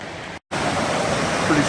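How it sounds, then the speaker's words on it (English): Waterfall at High Water Bridge on a Mt Marcy hike in April: steady, loud rushing water close by, broken by a brief dropout. "Pretty strong, little bit of a waterfall there."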